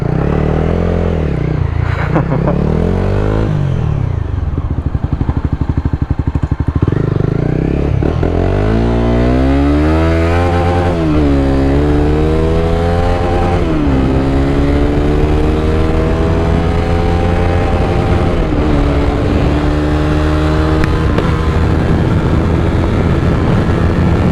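A motorcycle rides through a turn at speed, its engine loud and close with a steady drone whose pitch sweeps down and back up as the rider eases off and accelerates, with no voices.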